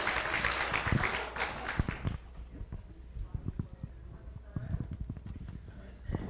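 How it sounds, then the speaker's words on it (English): A church congregation at a Sunday service breaks into a dense burst of applause for about two seconds, then it fades into scattered claps, knocks and shuffling, with voices around it. "Give Sandra a round of applause for playing along."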